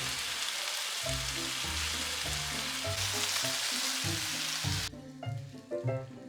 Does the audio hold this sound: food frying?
yes